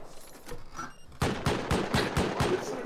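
Rapid bursts of gunfire in the survival game Rust during a raid on a large compound, a quiet stretch giving way to a run of loud, evenly spaced shots about a third of a second apart.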